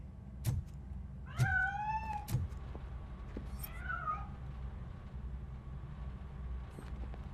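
A cat in the video game RoboCop: Rogue City meows loudly several times in quick succession, then gives a fainter mew as it escapes, over a low steady game ambience with no speech.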